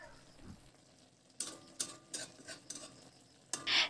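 Fish curry being gently stirred in a pan, a few soft scrapes and light clacks of a spoon against the pan over a faint low sizzle, quiet and close.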